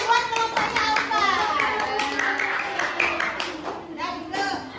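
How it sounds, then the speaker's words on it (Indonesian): Group of children clap for a classmate team during an Indonesian coding lesson, a steady burst of applause lasting several seconds and mixed with children's chatter. "Kita beri aplaus dulu. Tepuk tangan buat kelompoknya Alfa."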